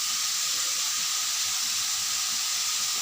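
Chicken fries in a wok with a little salt, giving a continuous bright hiss and sizzle that stays even and close throughout, with no talking.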